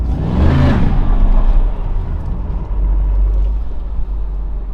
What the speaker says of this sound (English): Look, that car almost killed us.